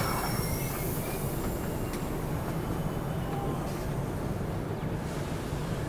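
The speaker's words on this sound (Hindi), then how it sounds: "इगतपुरी से अपनी ट्रेन निकल रही है" An Indian Garib Rath Express pulls out of Igatpuri station in hilly country, giving a continuous, fairly quiet rumble of rolling wheels and carriages with faint squeals, heard from aboard the train.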